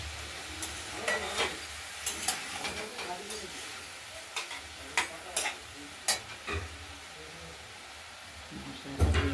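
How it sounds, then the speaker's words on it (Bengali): Mixed vegetable curry cooked with fish oil being stirred in a pan: a low steady sizzle under irregular scraping and clinking of a spoon against the pan, close up. "আমরা তরকারিগুলোকে ঢাকনা খুলে আরেকবার নাড়াচাড়া দিয়ে নিলাম।"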